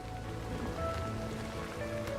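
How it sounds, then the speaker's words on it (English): Steady rain patters on a surface outdoors, a dense, even hiss with faint low rumble and soft tonal hum beneath, no voices. "listen to the rain outside."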